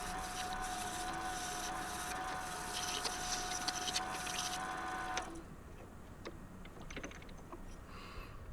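A wooden Christmas ornament sanded with 100-grit paper on a spinning lathe, played at four times speed: a steady, quiet, dense whirring hiss that drops off abruptly partway through, leaving a softer ticking hum.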